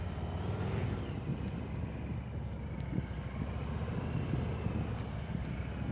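Motorcycle engine held on steady throttle during slow-speed practice riding through cones, a continuous low drone with wind rumble on the microphone and no pauses.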